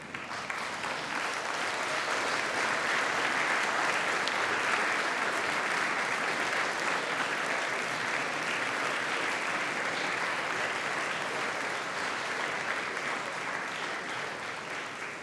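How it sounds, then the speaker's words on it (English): Graduating students at a university ceremony applauding their supporters, a broad, continuous roar of many hands clapping from a large hall, steady and even throughout without a break. "Can I ask our graduating students to stand, applaud, and wave to your supporters?"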